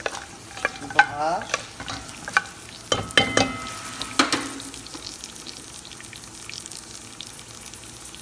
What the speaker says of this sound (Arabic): نستمر في التقليب إلى أن يتحمص